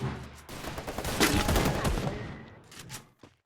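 Sniper gunfire in a video game's training ground: a dense, loud burst of shots rolls out for about two seconds, then trails off into a few fainter cracks.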